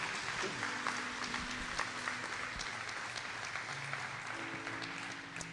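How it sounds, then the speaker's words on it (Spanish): A church congregation applauding, a steady wash of many hands clapping together, continuous and moderately distant, with faint tonal sounds underneath and no speech. "Dale un fuerte aplauso al Señor si tú lo crees."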